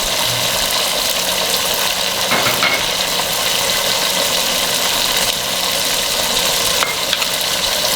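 Steady, loud sizzling of beef yahni pulao frying in a pot as tomatoes and green chillies go in, a dense continuous crackle with faint stirring and no talk.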